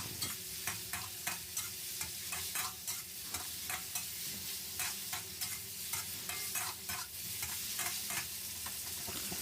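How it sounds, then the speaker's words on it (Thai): Pickled mustard greens with minced pork being stir-fried in a pan: a continuous sizzle punctuated by regular scraping strokes of a spatula, close and steady for the whole stretch with no talking. "จากนั้นก็ผัดคลุกเคล้ากันสักเล็กน้อยครับ"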